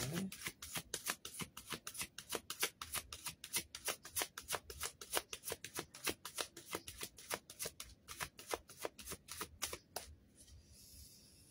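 Tarot cards are shuffled by hand in a fast, even run of crisp riffling slaps, close and clear, for about ten seconds before stopping into quiet.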